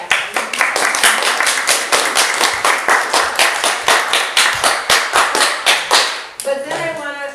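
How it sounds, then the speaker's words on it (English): Guests at a 50th wedding anniversary gathering clap in a brisk, regular rhythm of sharp, close hand claps for about six seconds, then the clapping stops and a voice begins. "and I think they deserve a clap."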